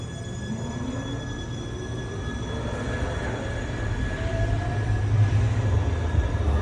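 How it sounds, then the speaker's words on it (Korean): A campus tram in Doha's Education City rolls past with a steady low rumble of wheels on rails, swelling slightly toward the end, with faint tonal whines over the noise. "캠퍼스 안에 다니는 트램인가 보네."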